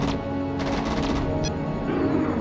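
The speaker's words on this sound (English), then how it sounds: "Press the fire button to fire with your gun." An aircraft gun firing in the Rebel Raiders arcade flight game, a burst of rapid repeated shots over a constant engine drone, followed by a short sharp blip and a later rush of noise.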